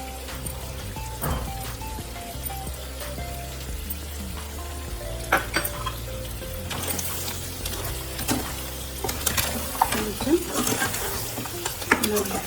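Crab curry with pepper and dry ginger powder being stirred in a pot, a low bubbling sizzle under frequent clattering spoon scrapes that grow busier toward the end, near and with no talk.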